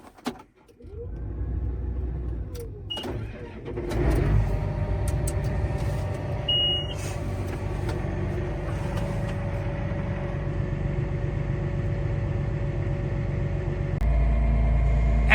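A John Deere 8530 tractor engine runs at a steady idle, a continuous low rumble heard from inside the cab after a few startup clicks and thumps, then holding steady and slightly swelling near the end.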